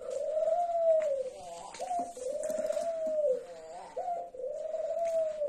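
Young pigeons, just-weaned squabs, coo in a steady repeating series of three drawn-out, rising-falling calls, close and clear with soft background rustle and no talk.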